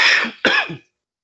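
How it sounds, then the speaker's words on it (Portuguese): Two harsh coughs from someone with a cough during a math lesson, close and fairly loud, the second right after a brief gap, then silence. "desculpa aí que eu tô com uma tosse aí"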